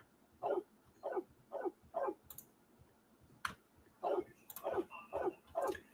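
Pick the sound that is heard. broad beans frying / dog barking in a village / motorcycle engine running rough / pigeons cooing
dog barking in a village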